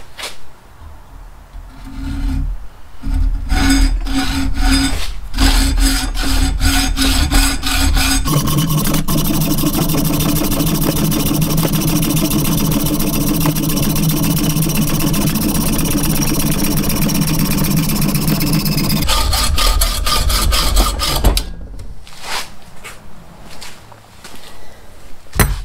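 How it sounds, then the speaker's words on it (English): A two-foot length of all-thread rod from Lowe's being cut into one-foot pieces, giving a loud, steady grinding rasp held for about ten seconds between shorter bursts of cutting and clattering handling noise. "The all thread I'm going to cut to 1-foot lengths."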